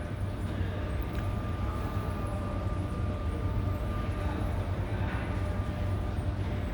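Ambience inside Atocha train station in Madrid: a steady, dense hum and murmur of a large indoor hall with a faint constant tone and scattered distant clatter.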